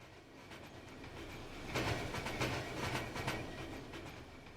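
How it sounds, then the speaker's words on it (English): A video game train rattles and clatters steadily, with rhythmic clickety-clack bursts growing louder midway, close and continuous, with no talking. "the sweet sound of my rattling train"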